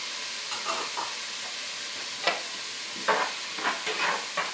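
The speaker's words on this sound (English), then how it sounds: "I'm going to sweat these down." Onions and other aromatics seasoned with pepper, salt and Worcestershire sauce sweat gently in a soup pot for Italian wedding soup, giving a soft sizzle with scattered stirring scrapes and small crackling bursts, fairly close and quiet, with no voices.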